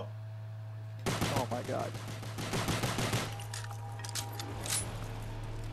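Rapid pistol fire in the video game Nazi Zombies: a burst of sharp, loud shots in quick succession over a steady background hum, followed by quieter game sounds, with a brief spoken exclamation.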